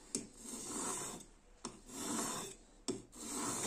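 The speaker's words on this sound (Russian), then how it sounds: "Я же буду точить на обычном камне." Scissor blades are sharpened on an ordinary whetstone with long, close rasping strokes, three in a row, each opening with a sharp scrape and separated by brief pauses, with no talking.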